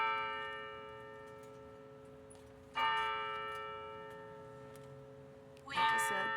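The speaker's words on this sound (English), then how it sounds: "The bells are ringing." Church bells ringing at noon nearby, two distinct strikes several seconds apart, each leaving a long shimmering, slowly fading ring.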